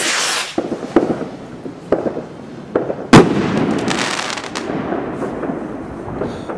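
Fireworks bursting outdoors at a display, with repeated sharp bangs and crackling booms at irregular intervals, one especially loud close blast midway, over a continuous rumbling wash of distant explosions.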